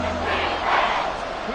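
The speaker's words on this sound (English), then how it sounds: "This crowd doing their best to make a loud racket." A football stadium crowd roars steadily and loudly throughout, a dense wash of massed voices with no break, while an injured Falcons player is down on the field.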